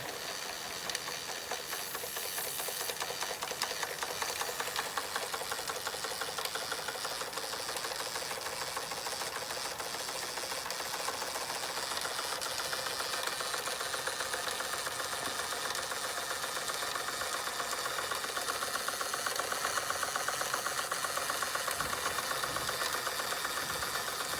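A steady, busy mechanical chugging from a Fleischmann 135/2 toy steam engine runs continuously with a rapid rhythmic knock and hiss, close by and unchanging, no voices.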